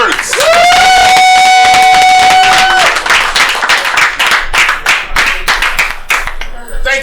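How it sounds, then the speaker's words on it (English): Patrons at a live comedy show applaud as comedian Phil Burns is called up. A long, shrill whistle rises at the start over loud, close clapping and cheering, then the applause carries on and fades to a few scattered claps. "Give a round of applause for Phil Burns."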